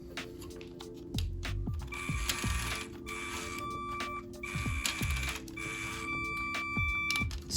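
Small motor driving a remote-controlled LEGO Ford Mustang, whirring in short bursts whose pitch rises and falls repeatedly, with clicking and gear-like rattles over the top, close and fairly quiet.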